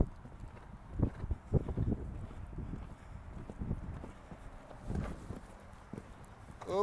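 Horse hooves clip-clop on the ground during circle jump training, a run of uneven thuds at moderate distance, with occasional voice sounds in the background.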